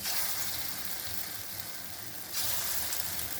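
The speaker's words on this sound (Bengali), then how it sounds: "এখন বড়াটা ছোট ছোট করে ভেজে নেব।" Small lentil-paste fritters mixed with chilli and turmeric frying in oil make a loud, close bubbling sizzle that briefly dips and then surges brighter again, with no voices.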